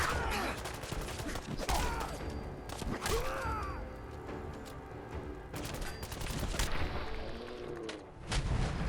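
Heavy, continuous gunfire in Fallout 4, with rapid shots, booms and mechanical clatter layered densely throughout, loud and close with brief voices mixed in.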